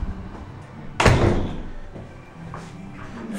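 A hostel front door on a quiet street in Granada, Spain, shuts with a single loud thud near the mic, followed by faint room noise.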